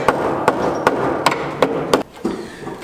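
Sharp, evenly spaced hammer blows, about six in under two seconds, strike cut sheet metal being folded on a Mazda RX-8 body for a widebody kit, close and loud in a workshop.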